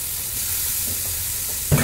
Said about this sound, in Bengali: বেগুনটা তুলে নিয়ে এই তেলেই আমি আবার আলুটা ভেজে নিব